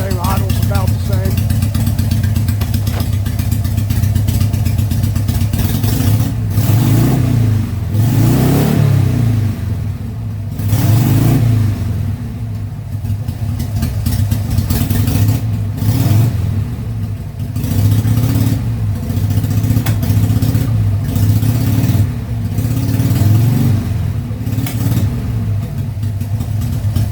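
A Harley-Davidson Sportster motorcycle fitted with a velocity stack runs nearby with a loud, steady, lumpy idle broken by several throttle blips that swell and fall, while someone talks over the engine throughout.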